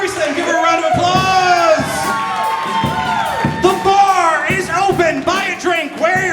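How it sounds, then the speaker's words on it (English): A bar crowd at a storytelling slam cheers and whoops for the winner, loud shouts and yells rising over one another, with a voice talking through part of it. "Give her a round of applause."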